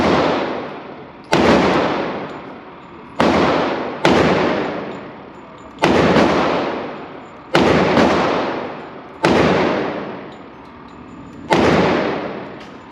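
Seven loud, close gunshots from a Smith & Wesson M&P 10mm handgun firing full-power Sig and Underwood ammunition, spaced irregularly about one to two seconds apart, each a sharp blast followed by a long echoing decay in an indoor range.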